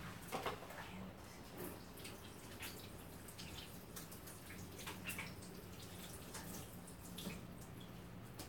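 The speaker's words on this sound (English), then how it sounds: "Let me wash my hands." Hands being washed under a running tap in a kitchen while decorating a cake, a soft, steady stream of water with faint splashes and drips, quiet and continuous.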